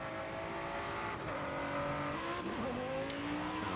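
Forza Horizon 5 GT car engine rising and falling in steady revs with tonal harmonics, loud and continuous throughout with a brief tire squeal texture, no talk.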